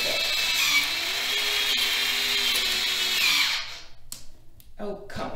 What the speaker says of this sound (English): electric pencil sharpener